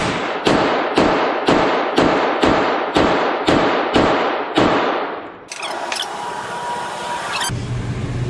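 Close, loud shots on a pistol range, about ten fired in a steady, evenly spaced rhythm roughly every half second, each a sharp crack with a short decay, followed by a brief high-pitched ringing tail.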